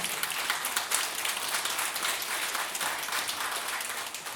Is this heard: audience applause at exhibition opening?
yes